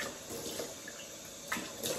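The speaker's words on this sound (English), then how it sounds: "wash off, use cold water." Cold tap water runs steadily into a sink to rinse the face after a safety-razor shave, a soft continuous wash with a couple of brief louder splashes.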